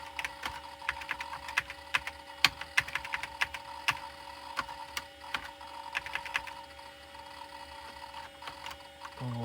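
Rapid keypresses tapped on the keyboard of a Pentium 133 PC, an irregular run of sharp close clicks with short pauses between them, heard alone against a steady low hum from the computer.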